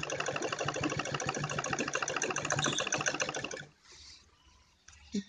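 A sewing machine stitches a zip onto a kurti in a fast, steady run of rattling stitches for about three and a half seconds, then stops, leaving near silence with a faint click at the end.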